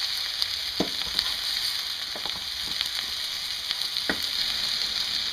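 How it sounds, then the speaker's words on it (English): Potatoes fry in butter in a pan with a steady, close sizzle and crackle, broken by a few sharp pops and stirring scrapes, with no voices. "just enough to keep it frying and not burning"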